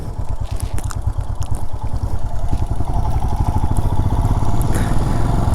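Motorcycle engine chugging slowly in first gear on a steep mountain descent in Zanskar, a loud close rapid putter throughout with no talk.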